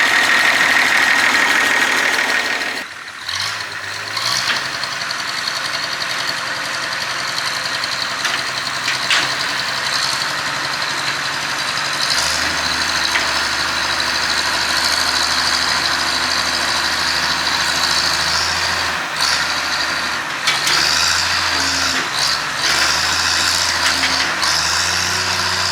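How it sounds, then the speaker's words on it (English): A heavy loader engine labours while unloading an International Transtar truck, a deep sustained rumble that swells and settles with clanks and scrapes, loud and close for the whole stretch. "The loader's starting to breathe heavy."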